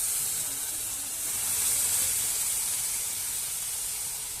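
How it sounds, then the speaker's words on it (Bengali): A steady, broad hiss and sizzle of milk poured into a hot pan, continuous and fairly close, with no voices. "এবার আমি দুধটা দিয়ে দিচ্ছি"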